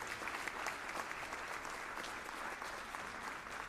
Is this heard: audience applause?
yes